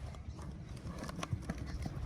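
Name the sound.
horse trotting, hooves clip-clopping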